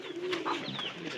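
White pigeon giving a short, soft coo close by, with a brief murmuring call over a faint background hum.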